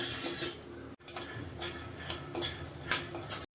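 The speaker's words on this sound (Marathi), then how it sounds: "तीळ भाजून घेतल्यावरती आपण शेंगदाणे भाजून घेऊया" Peanuts are dry-roasted and stirred in a pan while making sesame-jaggery laddoos, with a spoon scraping and clinking against the metal in irregular, close strokes and the nuts rattling softly between them.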